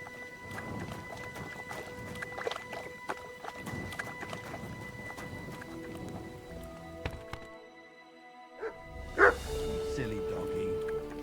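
Hooves clop rhythmically while a dog barks in scattered yips in Kingdom Come: Deliverance II, with game-like music tones and a short gap of near silence.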